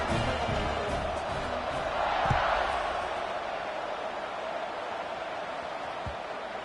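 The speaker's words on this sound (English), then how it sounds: "this crowd is buzzing after that last score" Football stadium crowd at a Dawgs versus Tigers game roars in a steady, dense wash after a score, swelling briefly mid-way with a faint thump, sustained and distant-sounding throughout with no clear speech on top.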